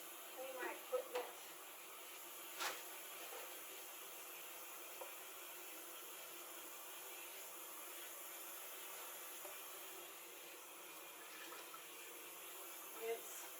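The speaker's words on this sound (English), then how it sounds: "you turn on my faucet" Tap water runs steadily from a faucet for rinsing during a clinical procedure of emptying a urinary drainage bag under isolation precautions, a faint continuous hiss broken by a few soft clicks and knocks.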